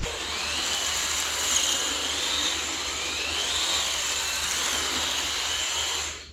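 An Usukani D3T RC drift tricycle on its first test drive gives off a continuous high electric motor whine. The pitch rises and falls as it speeds up and slows, steady and fairly close throughout.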